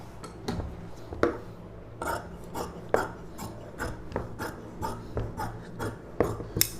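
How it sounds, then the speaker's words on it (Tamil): Scissors cutting through lining fabric for a paavadai sattai, a rapid series of crisp, close snipping rasps in an uneven rhythm with brief pauses between strokes. "இப்போ வந்து இந்த லைனிங் அப்படியே கட் பண்ணி எடுத்துக்கலாம்"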